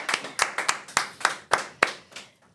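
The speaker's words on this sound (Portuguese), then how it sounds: "Gente, uma salva de palmas de novo." A round of applause from a small audience at a talk, with about ten distinct claps from a few people in an irregular rhythm, close and fading out after two seconds.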